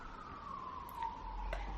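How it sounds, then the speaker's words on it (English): Sirens sound outside, a faint steady wailing tone slowly drifting lower, heard from a distance through an indoor room over low background noise, with no one talking. "Loud sirens."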